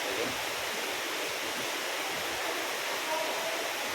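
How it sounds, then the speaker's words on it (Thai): Heavy downpour with runoff water pouring over flooded ground, a dense, steady hiss of rain and flowing water holding constant from start to end, fairly soft in level. "เพิ่งจะเห็นฝนตกวันนี้นะฮะ ตกแบบเอาจริงเอาจังเลย"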